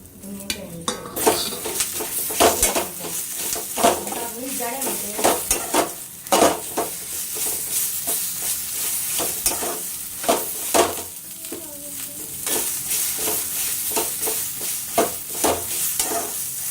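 Ridge gourd and its peel being stirred and fried in a pan for pickle: repeated scraping clinks of a spoon against metal over a steady sizzle, close and fairly loud, with no talking.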